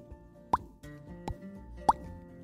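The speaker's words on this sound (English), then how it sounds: "With each time that they popped out of the slime, it left a pretty silly sound." Silly cartoonish pops of bodies being pulled out of sticky slime: two sharp, wet plops about a second and a half apart, with softer pops between, over a quiet tonal musical background.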